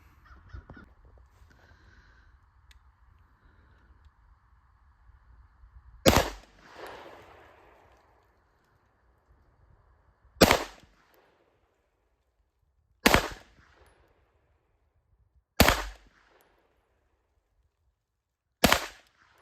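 Five sharp, loud Beretta PX4 pistol shots crack out at an outdoor range, spaced a few seconds apart, after a quiet stretch with faint crow calls in the background.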